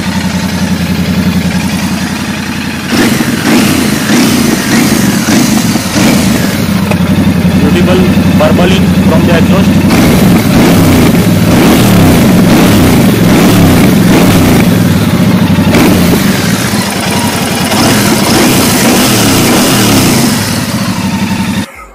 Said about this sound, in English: tuning exhaust let me rev it little bit